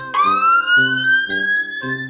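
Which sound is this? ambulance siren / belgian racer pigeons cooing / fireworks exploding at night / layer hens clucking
ambulance siren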